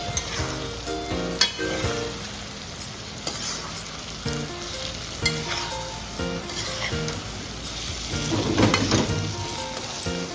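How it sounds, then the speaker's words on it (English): Nigerian fried pepper stew sizzling and crackling in a hot pan while being stirred repeatedly, with scraping and clinking of a utensil over a steady fry, close and fairly loud. "So now here I'm just mixing and mixing and mixing"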